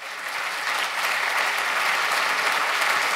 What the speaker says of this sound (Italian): Un grande applauso al cavaliere Boselli, benvenuto.